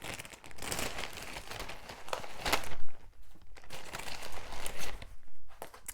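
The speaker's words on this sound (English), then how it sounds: "sorry about the rustling" Paper crinkling and rustling close by, in irregular bursts with brief pauses, no talking.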